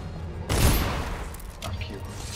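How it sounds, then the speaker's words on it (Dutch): A gunshot in the video game Dishonored, one sharp loud report with a booming tail that fades over roughly two seconds, followed by fainter scattered clatter while people talk. "Wow, dat was een schot."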